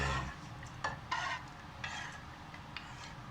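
Cheesecake mixture with gelatin being stirred in a bowl, giving soft scraping and swishing strokes with a few light clinks, close and fairly quiet, no voices.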